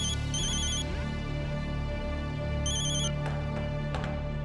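A telephone rings in repeated bursts of trilling bell tones over steady background music from a Marathi TV serial scene, with no one speaking.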